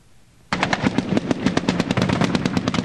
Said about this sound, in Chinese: 激烈枪声不停在伊拉克跟叙利亚边境响起